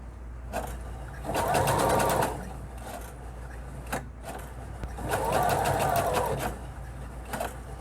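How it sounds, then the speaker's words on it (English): A sewing machine back stitches fabric in two steady whirring bursts of rapid stitching, close and loud, each lasting about two seconds, separated by brief pauses with faint handling clicks. "I'm going to back stitch just a couple stitches"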